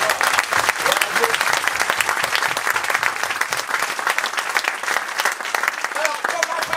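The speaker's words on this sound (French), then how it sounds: "On peut l'acclamer, merci." Audience applause fills a church service, steady and dense clapping from a crowd sustained throughout, with a voice briefly speaking over it.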